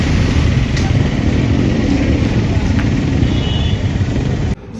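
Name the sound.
motorcycles racing on a race track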